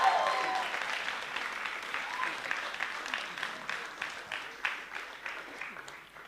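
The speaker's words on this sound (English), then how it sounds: "Can I give another round of applause, please?" Wedding reception guests applaud the bride and groom's speech, a steady, fairly close wash of many hands clapping that slowly thins out over several seconds.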